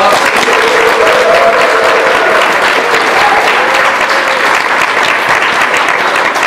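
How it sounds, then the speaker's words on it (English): An audience applauds students at a book release, a loud, sustained wash of clapping from a roomful of people that carries on steadily without pause. "let's give our students a big round of applause"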